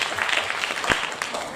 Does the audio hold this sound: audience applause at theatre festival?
yes